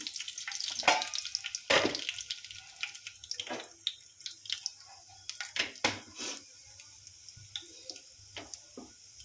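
Tempering spices hitting hot oil in a pan, sharp sizzling bursts and crackles popping at irregular intervals over a quiet background, fairly close and alone without talk.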